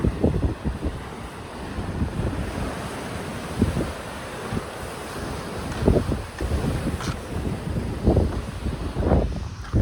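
Waves breaking on the seashore at Dwarka in the morning, with strong wind buffeting the microphone; surges of surf roll in repeatedly, loud and close, with no talking.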